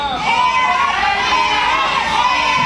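Wrestling crowd at an NWA event cheering for Arrick "the Dragon" Andrews, a loud sustained roar of voices with shouting throughout, no individual speech standing out.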